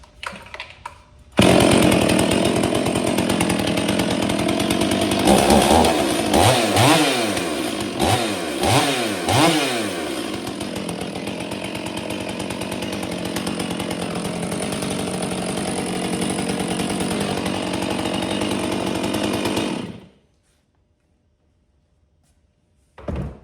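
A Stihl MS 461 chainsaw fires up for the first time and runs steadily at close range, with a few sharp revving bursts early on before settling into a constant loud idle that cuts off abruptly near the end.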